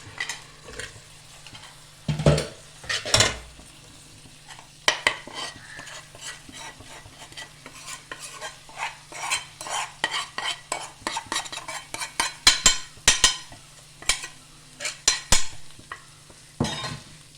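Chicken curry masala with chili powder being stirred in a pan, a spoon scraping and clinking against the metal in irregular strokes over a faint sizzle, close and fairly loud, no voices.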